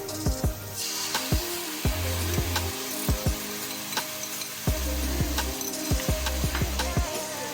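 Meat for a zongzi filling goes into a hot pan and is stirred with a spatula, bringing steady frying sizzle with repeated sharp scraping strokes and occasional low thumps, close up.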